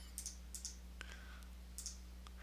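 Sharp, dry computer mouse clicks during a desktop tutorial, a few spaced single and double taps, close and quiet over a steady low electrical hum, with no voices.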